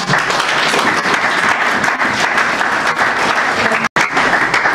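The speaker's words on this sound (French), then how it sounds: "On va applaudir pour M. Mbouzé." A seated audience at an entrepreneurs' event applauds for their trainer with close, loud, continuous clapping that is cut off briefly near the end.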